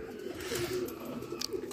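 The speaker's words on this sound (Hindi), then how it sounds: "एक कबूतर और है, काला कबूतर" Soft rolling coos from nearby pigeons, including a black one, rise and fall in a continuous low murmur, broken by a couple of faint taps and no speech.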